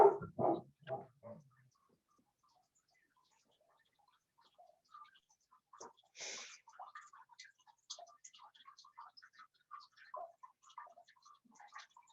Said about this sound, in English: The dog has never barked this much before.